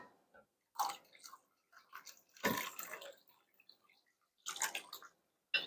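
Homemade beef stock is poured from a pot, making irregular bursts of splashing and sloshing liquid with short pauses between pours, close and fairly soft, with no talk.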